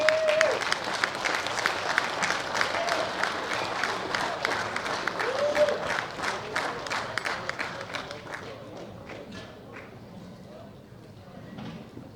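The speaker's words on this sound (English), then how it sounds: "How about a big round of applause for Fanny Hawkstokkia?" An audience claps at a women's world bench press championship medal ceremony. The applause is loud and dense at first, then thins and fades over several seconds while an announcer's voice carries over it.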